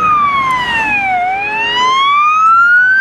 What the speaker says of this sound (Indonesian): Wehehe, ini ambulan